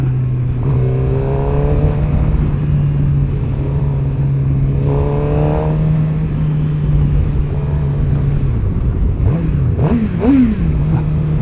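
A 2024 Suzuki GSX-R 600 sport motorcycle with factory exhaust idles with a steady drone, then revs up sharply a few times near the end; loud and close, with no talking.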